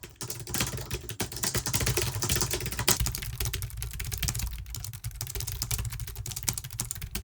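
Steady, rapid typing on a quiet computer keyboard at a desk, soft dense key clicks continuing throughout with small pauses, close and fairly faint.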